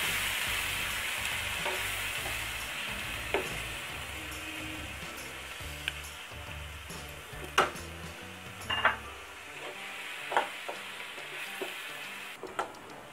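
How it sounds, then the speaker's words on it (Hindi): Grated onion frying in a pan after cumin produces a soft, continuous sizzle, with intermittent stirring scrapes and light clinks of a utensil against the pan growing more frequent toward the end. "अब हम इसमें कद्दूकस की हुई प्याज, प्याज को हल्का गोल्डन ब्राउन होने देंगे"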